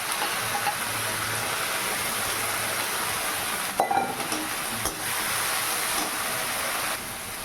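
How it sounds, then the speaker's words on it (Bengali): Cumin seeds, dried red chili and bay leaf crackle in hot oil for lentil dal, a loud, continuous close-up sizzle and hiss with faint stirring clinks running throughout; no speech. "ওই তেলে আর একটু তেল দিয়ে তারপর ফোড়নে দিলাম জিরে, শুকনো লঙ্কা আর তেজপাতা"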